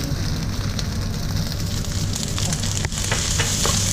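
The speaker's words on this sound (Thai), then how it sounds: "ใส่ต้นหอมลงไปคลุกแค่แบบ สักสามสี่ทีนะคะ" Shrimp fried rice sizzles loudly in a hot wok as spring onions are tossed in, a dense continuous frying hiss with stirring scrapes and clatters, no talking.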